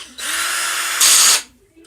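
A Dewalt 20V Max lithium-ion cordless drill spinning freely close by, a steady high whine that jumps in pitch and loudness for a moment before cutting off.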